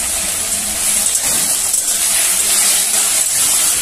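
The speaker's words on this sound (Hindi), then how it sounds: "अब इसको भूनते हैं अच्छा से पूरा" Chicken curry paste fries in a pan on a gas stove, giving a continuous bright sizzling hiss at close range with faint low rumble beneath and no talk.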